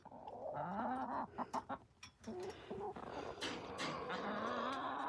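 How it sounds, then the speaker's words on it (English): A flock of chickens clucks and squawks close by, a busy overlapping chorus of calls that rises and falls without pause. "You guys are crazy chickens."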